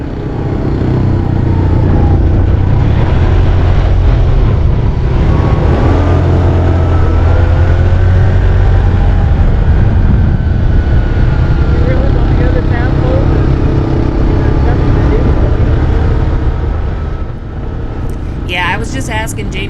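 Side-by-side off-road vehicles ride across the Dumont Dunes, a loud steady engine drone with shifting pitch that continues for most of the stretch, then eases near the end, with voices talking over it.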